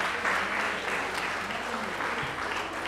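Steady applause from a crowd at a dance championship in Meerut, India, a continuous wash of clapping with faint voices underneath.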